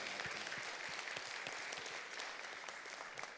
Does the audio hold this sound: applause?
yes